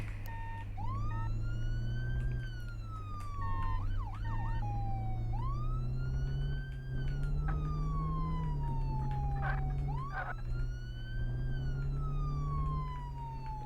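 A wailing ambulance siren in a video game, likely Flashing Lights, sweeps up and down repeatedly, loud and close, over a steady low engine rumble, with a brief yelping burst in the middle.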